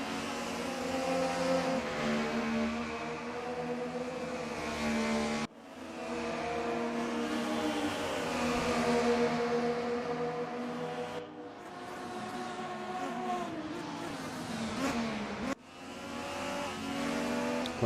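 1995 DTM touring race cars at Watkins Glen, engines droning and shifting pitch as they drive through, with a few abrupt cuts between sustained stretches of engine noise.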